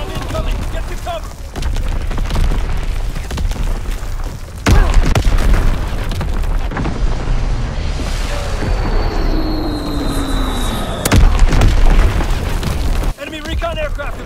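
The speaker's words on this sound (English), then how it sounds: "Incoming enemy artillery! Get to cover! Enemy bomb incoming!" Heavy artillery shell blasts in Call of Duty: WWII, deep booming impacts landing a few seconds apart with rumbling debris, a descending whistle before one hit and a busy battlefield din throughout.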